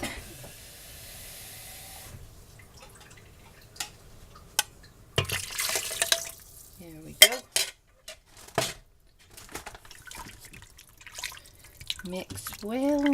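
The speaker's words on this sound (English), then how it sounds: "So I'm going to add another cup of water." Water poured into an Instant Pot on a stove while cooking beef stroganoff: a short steady pour early, then clinks, stirring and splashy kitchen clatter, with a voice talking intermittently.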